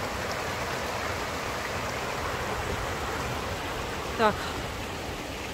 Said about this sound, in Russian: Так, я опять перехожу реку.